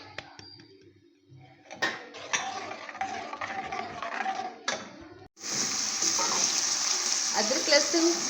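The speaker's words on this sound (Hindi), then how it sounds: "अब इसमें मैं अदरक लहसुन ऐड कर लेती हूँ। पेस्ट बनाया था, इसको हम फ्राई करेंगे।" Ginger garlic paste fries in a pan for Kashmiri dal, with a soft sizzle and occasional stirring scrapes, and a louder, steadier hiss bursting in partway through as more goes into the hot oil.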